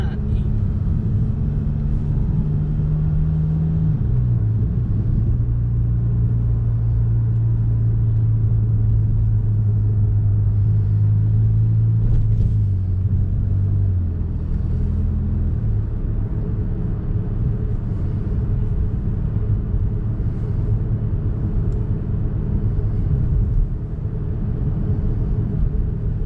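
Ferrari Roma on the road, heard from inside as a low steady engine rumble with a drone that rises and settles in pitch, under constant tyre and road noise.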